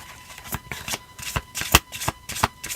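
A deck of tarot cards is shuffled by hand in a series of quick, crisp riffles and slaps, about a dozen distinct bursts in an uneven rhythm, close and clear with no talk.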